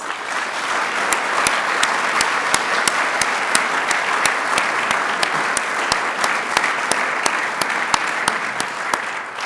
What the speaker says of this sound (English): Let's give some applause and love to the Smiths.